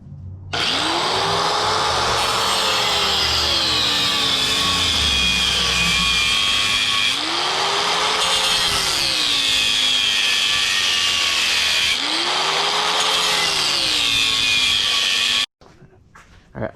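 An angle grinder's cutting disc slices through a weld on a motorcycle frame during a KX500 to YZ450F conversion, a loud steady high whine rising and dipping in pitch three times as it bites, then abruptly stopping.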